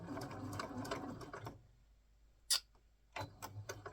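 Sewing machine stitching a crossbody bag seam, a brief run of rapid close mechanical ticking that stops, a short sharp click in the quiet gap, then the stitching resumes softly.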